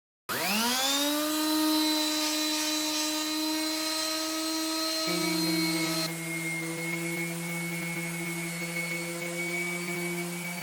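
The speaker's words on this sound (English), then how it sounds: "I ended up sanding the entire board." A power sander spins up and runs with a steady high whine on a wooden board, its pitch dropping slightly partway through as it works continuously.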